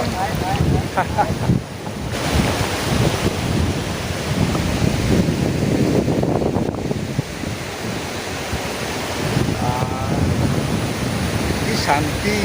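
Sea waves wash onto a sandy beach in West Bengal, a steady loud roar of surf mixed with buffeting wind on the microphone, with no talk.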